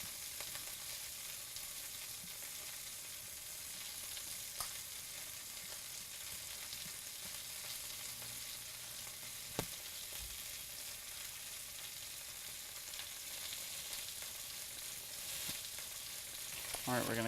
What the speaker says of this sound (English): I'm going to bring the heat up on the pan in which I'm going to brown the steaks.